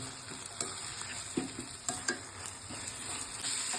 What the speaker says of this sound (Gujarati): એમાં આપણે હવે આ રીંગણા નાખીશું અને બધું મિક્સ કરીશું અને થોડી વાર ચડવા દેશું